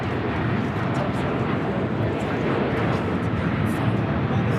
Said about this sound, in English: Next arrival here on the north side is Delta Airlines Flight 694 coming from Detroit,